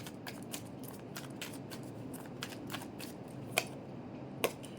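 Soft, steady riffling of tarot cards being shuffled over a constant hiss, with a few faint sharper snaps standing out near the end; quiet and close, no voices.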